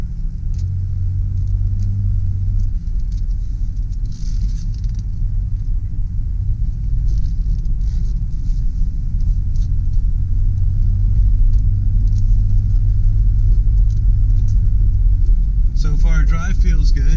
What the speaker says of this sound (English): I think we're ready for our test drive here. No problems with reverse.